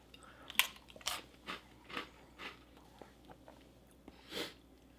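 Crunchy, not-hard biscuits from a Spanish ICR military ration being eaten close up, a series of faint, irregular bites and crunches spaced under a second apart, with no talking.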